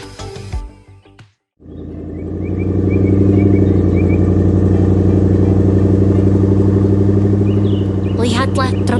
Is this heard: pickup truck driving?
yes